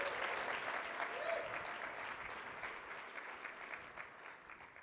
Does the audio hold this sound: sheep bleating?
no